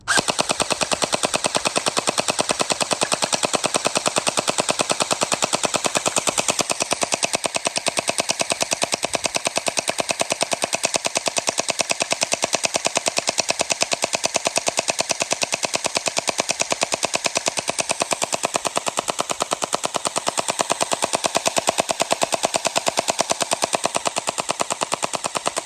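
A NERF Pro Gelfire MrBeast Edition blaster empties a 300-round hopper, firing in one long, continuous, rapid stream of close mechanical bursts with a whirring motor pitch that wavers throughout.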